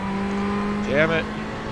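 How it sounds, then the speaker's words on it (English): A Ferrari 488 race car in a sim racing game at Daytona holds a steady, droning engine note pinned at its rev limiter, with a brief rising warble near the middle. "Sitting on the rev limiter again."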